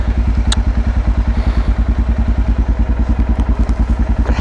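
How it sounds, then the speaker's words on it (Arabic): Motorcycle heard while riding, a steady rapid rhythmic engine pulse with clattering, and a worn chain is said to make an annoying noise; loud and close throughout. "عندي السلسلة خصني نبدلها، كتعطيني واحد الصوت كتعصبني"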